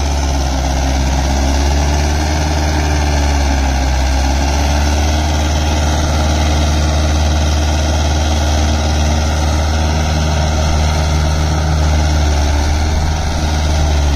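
A Mahindra 575 DI XP Plus tractor engine runs steadily and loudly at close range in first high gear, a constant low throbbing rumble with no breaks.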